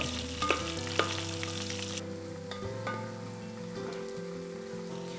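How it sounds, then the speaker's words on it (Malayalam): Chopped onions sauté in a pan for anchovy thoran with a continuous close sizzle. Occasional scrapes and stirring clinks sit on top of a steady background hum. "സവാള ഇട്ടത് നല്ലോണമൊക്കെ വഴറ്റണം നമുക്ക്"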